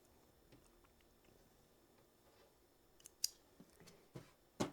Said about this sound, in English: Then I just snip in between my little trails.